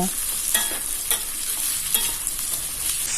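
Whole spices fry in a pan for Bengali ghugni: a steady, close sizzle with repeated stirring scrapes and light clinks of the spoon. No one speaks.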